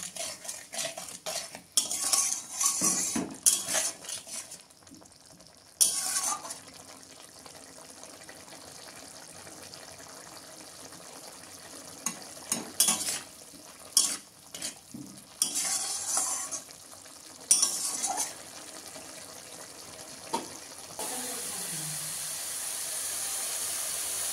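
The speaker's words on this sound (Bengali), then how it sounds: "আর একটু কষিয়ে নিচ্ছি" Egg curry made with duck eggs is stirred and sautéed in a pan, with repeated scraping and clinking of a spoon against metal over a low sizzle, in bursts separated by quieter stretches, close up and without talk.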